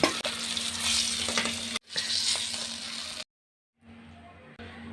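Grass carp fish frying in hot oil in a home kitchen, a steady loud sizzle broken by brief silent gaps as pieces are turned and lifted out, then resuming more faintly.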